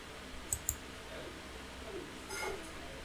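Two quick, crisp clicks close together near the start, like a computer mouse being pressed during software setup, then a faint low murmur over quiet room tone.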